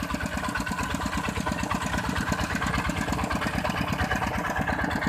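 Engines drive irrigation water pumps set up to drain a flooded rice field, a loud, continuous idling drone with rapid rhythmic chugging and no voices over it.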